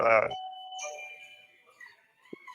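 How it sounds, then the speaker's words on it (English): A two-tone doorbell chimes and rings out, its tones lingering and fading, after a brief burst of speech at the start. "Somebody's dinging the doorbell."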